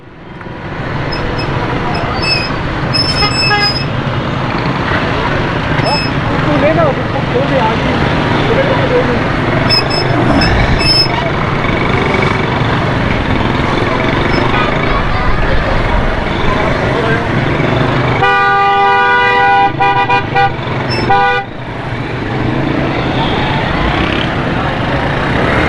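Heavy, congested road traffic in Karachi, with a steady loud roar of engines, several short horn blasts, and a longer horn sounding near the end.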